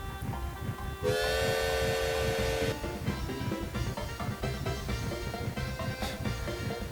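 A train in a video game sounds a loud steam whistle with a bright, sustained tone for about two seconds, then rumbles and clatters past with rhythmic rail noise.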